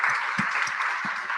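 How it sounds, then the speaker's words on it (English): Applause from a conference audience for the speakers at a cyber stability conference, a steady wash of clapping hands with a few closer, heavier claps standing out. "please join me in a round of applause for our speakers"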